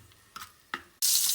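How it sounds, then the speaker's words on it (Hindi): Garlic paste frying in melted butter in a pan, a steady loud sizzle that bursts in abruptly after a couple of faint clicks and then holds evenly, with no voices. "गार्लिक जो है फ्राई हो चुका है।"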